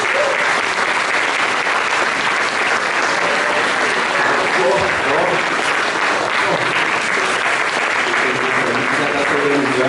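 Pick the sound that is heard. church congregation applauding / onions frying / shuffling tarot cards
church congregation applauding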